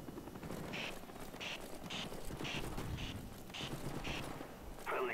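A chopper gunner helicopter fires in a Black Ops video game, regular bursts of gunfire repeating about every half second over a constant rotor-like drone, fairly close and loud throughout.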